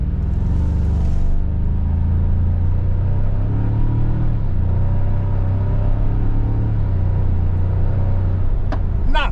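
A 2025 Toyota 4Runner SR5 4x4 set to sport mode pulls away, its engine giving a steady, loud low rumble that builds gently through the run, with a brief tapping sound near the end.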